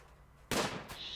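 Gunfire in the colony-sim game Rimworld during a hunt: one sharp, loud shot bursts out after near-silence and rings briefly, then a second, weaker crack follows and fades into faint background noise.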